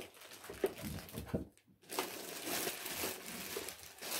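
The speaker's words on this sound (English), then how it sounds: "It's got this like plastic bag on it." Plastic bag on an Aerogarden Harvest gardening pot crinkles and rustles close by in quick bursts, with a brief quiet gap midway before the handling noise resumes and continues steadily.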